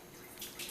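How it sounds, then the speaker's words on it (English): Water runs from a tap, a soft steady hiss that swells in two brief louder bursts of splashing near the end, fairly faint and close. "Oh, the water's on."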